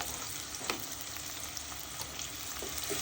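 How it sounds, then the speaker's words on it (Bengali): Chopped onion, slit green chilies and salt fry in hot oil in a pan, a steady close sizzle and crackle with occasional soft stirring scrapes. "তেল গরম হয়েছে, পেঁয়াজ কুচি দিয়ে দিব ফালি করে রাখা কাঁচামরিচ, পরিমাণ মতো লবণ দিয়ে দিব।"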